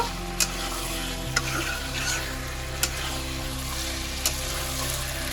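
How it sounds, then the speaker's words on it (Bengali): Fried potato, pointed gourd and prawns sautéed in a pan give a steady, close sizzle, with a few sharp clinks of a utensil stirring against the pan at irregular moments. "এবার আলু পটল চিংড়ি মাছগুলো আবার কিছুক্ষণের জন্য কষিয়ে নেব।"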